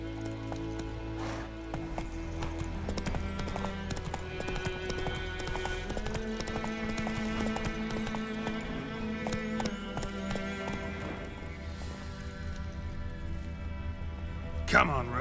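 Hoofbeats of Roach, the horse in The Witcher 3: Wild Hunt on PS5, clop steadily in a galloping rhythm under continuous game music, with a voice speaking over them.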